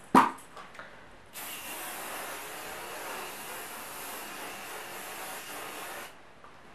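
Hairspray from a micro-aerated styling spray can hissing onto a bun hairstyle in one steady, continuous burst lasting about five seconds, close and fairly loud, after a short rustle.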